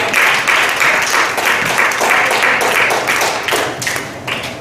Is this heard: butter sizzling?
no